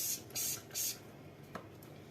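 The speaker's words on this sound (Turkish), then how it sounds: "Evet şimdi bezlerime de sıkıyorum arkadaşlar." A spray bottle spritzes cleaner onto cleaning cloths in three quick, crisp hissing bursts, then one fainter short spray, close and clear against a quiet room.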